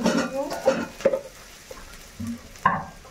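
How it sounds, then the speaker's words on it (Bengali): Onions fry in a pan for an instant-noodle dish, with a few scraping stirs and clinks of a utensil against the pan over a faint sizzle, interrupted by brief voice sounds. "পেঁয়াজটা ভাজা ভাজা করে দেবো"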